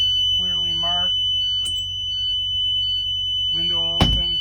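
A CDL-B class bus emergency window alarm sounds as a steady, piercing electronic tone through the whole stretch, while someone talks over it and a brief clunk lands near the end.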